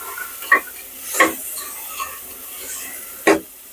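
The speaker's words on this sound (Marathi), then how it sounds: "टोमॅटोला मस्त फ्राय करून घ्यायचंय" Chopped tomatoes fry with browned onions in a pan, with a soft background sizzle and a few distinct spoon scrapes against the pan at irregular intervals.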